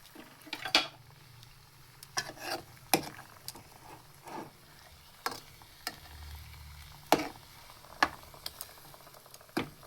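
A spoon scrapes and clinks against a pan as milk is stirred to make a sweet, giving irregular sharp taps over a faint low simmer, with no talking.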